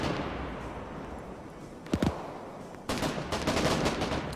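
Submachine gun fire in Arma 3, a short burst of clustered shots near two seconds followed by denser, sustained rapid firing over a low rumbling battlefield background.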